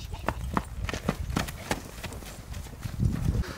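A five-year-old stallion used in ulak (kok-boru) games galloping past, hooves thudding in a quick, regular rhythm that stays close and clear, with some voices and background noise beneath.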